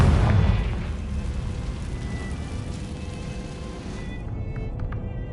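Confringo explosion spell in a wizarding video game: a loud booming burst at the start that fades into a long rumbling roar, gradually thinning toward the end, no voices.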